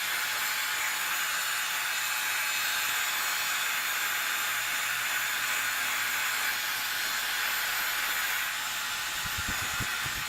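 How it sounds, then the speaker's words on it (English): A handheld hair dryer on its medium setting blows a steady, loud airy whoosh for the whole stretch while drying a man's freshly cut hair, with a faint low rumble near the end. "Next up is using a hairdryer on the medium setting."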